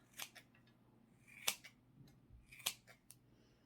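Scissors trim craft material for a witch gnome, making a few crisp, separate snips that sound quiet and close.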